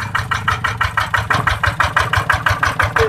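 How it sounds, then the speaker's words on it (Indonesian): A tractor engine runs close by at idle, a steady rhythmic chugging pulse at a regular beat throughout, with no talk over it. "Kang Sarino kepengin numpak traktor, jadi kepengin jajal."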